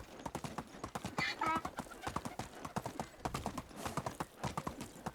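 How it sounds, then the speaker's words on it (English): Horse hooves clip-clop in a steady rhythmic gait in the video game Medieval Dynasty, with a brief whinny partway through, the in-game sound fairly quiet under a person talking. "I will trample you under the hoofs of my dear steed, Rocinante."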